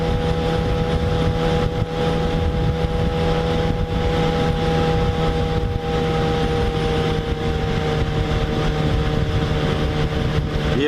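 Yamaha FZ6R sport motorcycle engine at a steady smooth drone while riding around 5,000 RPM, with constant tonal hum and wind noise, loud and continuous with no talk.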